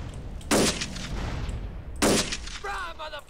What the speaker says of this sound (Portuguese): Mandaram uma bazucada aqui.